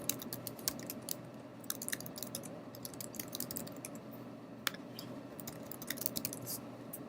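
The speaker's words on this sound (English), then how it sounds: "Now I can keep typing." Keys on a computer keyboard tapped in quick, uneven bursts of light clicks during a lecture, fairly close and steady over a low room hum, with no talking.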